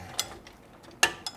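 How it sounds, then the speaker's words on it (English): A ratchet tightens the nuts on the rear shock bolts of a Nissan Titan, giving a few brief separate metallic clicks spread over a quiet moment, fairly close and with no voices. "tighten the bolts, obviously put the nuts back in, and tighten them down to 111 foot-pounds"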